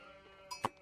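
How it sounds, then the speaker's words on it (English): A single short sheep bleat from a strategy video game match on a map called Mountain Clearing rises over a steady game soundscape of soft music, preceded by a faint brief click. "Collecting a lot of sheep around his base."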